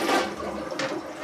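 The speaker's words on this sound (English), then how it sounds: "So now we're going to flush." A household toilet is flushed during cleaning, a loud, close rush of swirling water that opens strongly and keeps draining steadily, with a brighter gush near the end.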